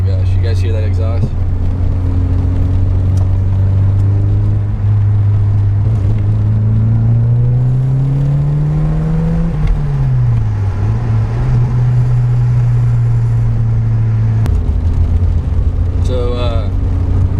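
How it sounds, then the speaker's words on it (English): A loud 1986 Porsche 944 Turbo exhaust rumbles steadily, rising and falling as the engine revs, with people talking over it. "You guys hear that exhaust?"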